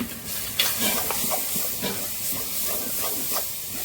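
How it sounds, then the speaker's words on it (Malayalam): Kappa biriyani being stirred with turmeric and chilli powder, a loud continuous hiss and sizzle from the hot pan with soft rhythmic scrapes of the spoon under it. "ഒന്ന് നന്നായിട്ട് ഇളക്കുക"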